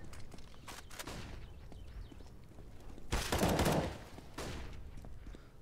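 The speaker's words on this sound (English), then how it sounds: "Quick push, quick frag from Fur" Gunfire during a quick push on the Cobblestone map in a Counter-Strike: Global Offensive pro match, with scattered shots and a louder burst near the middle over steady game ambience, no talk.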